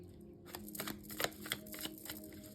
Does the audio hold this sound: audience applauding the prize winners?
no